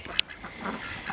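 A duck quacks in a short, slightly rough call, close and fairly clear, with no voices in the moment.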